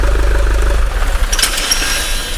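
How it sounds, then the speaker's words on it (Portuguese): A common-rail diesel engine on a workshop bench is switched off: its loud, steady pulsing idle winds down within the first second, leaving faint mechanical clicks and rattles. "Eu vou desligar o motor"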